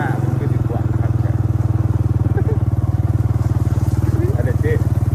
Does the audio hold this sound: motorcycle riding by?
yes